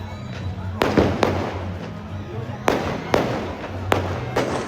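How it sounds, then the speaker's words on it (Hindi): Firecrackers burst during Independence Day kite flying, several sharp cracks and booms in quick pairs, some near and loud, with a continuous hum of crowd and chatter underneath. "बम पटाखे फटने स्टार्ट हो गए अब।"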